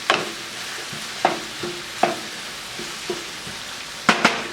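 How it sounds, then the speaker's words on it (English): Pepper flakes are stirred into chicken cacciatore in a pan over a low simmering sizzle, with a series of distinct scraping and clinking spoon strokes spaced irregularly, the last two close together. "I'm going to put our pepper flakes in there. Then we're just going to stir this up."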